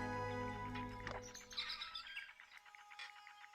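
A red-faced bird in the video game Tangle Tower gives a quick series of thin chirps over a faint musical drone, brief and soft, with no talking over it.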